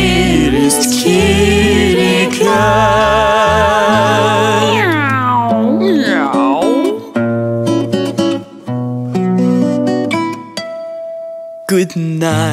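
A cartoon cat meows within a children's nursery rhyme song, its cries woven among loud sung melody and instrumental backing.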